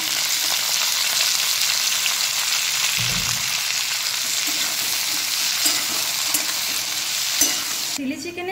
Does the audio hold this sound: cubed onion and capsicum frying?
yes